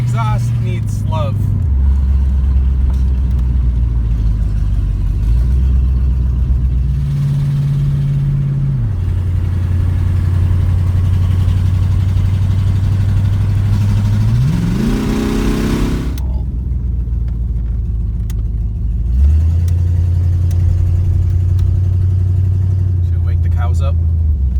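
A Ford LTD LX with a worn exhaust accelerates along a road, its engine droning loud and close as it climbs through several gear changes, with a rising surge before easing off, and a voice speaks over it.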